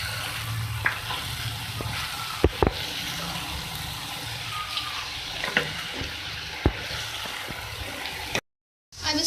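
Finely chopped cabbage and capsicum sizzle steadily in a hot pan while being stirred, with occasional sharp clicks of a utensil against the pan, close and moderately loud, ending in a brief cut of silence.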